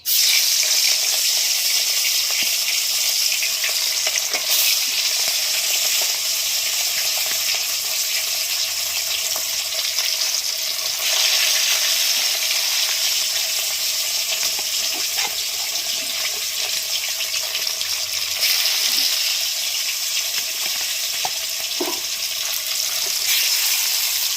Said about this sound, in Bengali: তেলটা গরম হোক, মাছটা ভেজে নেব।